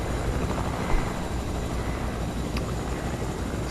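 A helicopter in the video game Fortnite whirs steadily and continuously, its rotor and engine drone filling the whole stretch at close range with no talk.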